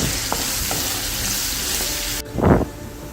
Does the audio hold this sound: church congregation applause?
no